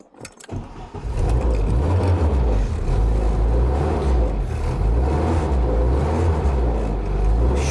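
Classic Mini engine cranking and catching, then settling into a steady, slightly uneven idle that runs close and loud without talk.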